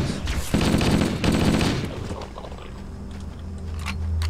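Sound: gunfire in the video game Halo: Combat Evolved

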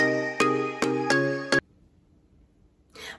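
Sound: YouTube channel intro jingle

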